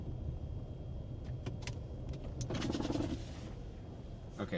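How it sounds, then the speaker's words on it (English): Cars roll down a muddy road during a Texas tornado outbreak, a vehicle swelling past midway with a rush of tire and engine noise over a constant low rumble. "Here come a bunch of cars, even though I'm backing down the road."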